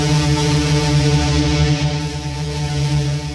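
A dense, steady synth drone run through an IRCAM granular engine and pitched an octave higher, sustained and buzzing with a rough grainy texture, loud and unbroken for the whole stretch.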